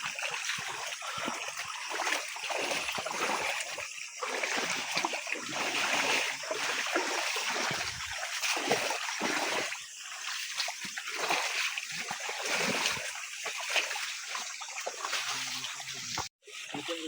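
Water splashing and rushing in a fairly large stream while snails are gathered by hand, a steady broad wash of splatter and flow close by that runs continuously, with a brief dip near the end.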